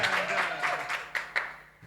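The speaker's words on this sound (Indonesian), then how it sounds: "Tepuk tangan semuanya." Audience applause at an Indonesian farewell talk show, a dense burst of clapping from a nearby crowd that swells and fades over about two seconds, with a couple of sharper claps near the end.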